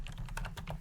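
Quick run of computer keyboard keystrokes, several crisp clicks in fast succession, close and fairly quiet, with no voices.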